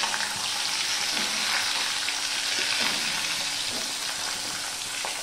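Potato pieces fry in hot oil tempered with cinnamon and cloves for a turnip curry, a steady close sizzle with soft crackles and occasional bubbling pops that continues throughout.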